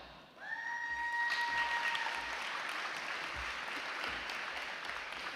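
A school ceremony audience bursts into loud applause and cheering for a student, with bright whistles near the start over a steady wash of clapping that carries on throughout.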